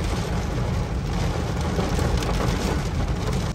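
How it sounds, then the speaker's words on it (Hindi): Heavy rain pours down suddenly, bringing the visibility below fifty metres: a loud, dense, unbroken hiss holds steady for the whole stretch, with no voices over it. "बारिश देखो कितनी तेज आ गई एकदम से"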